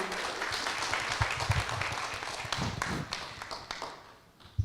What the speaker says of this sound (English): Another round of applause for Sam, please.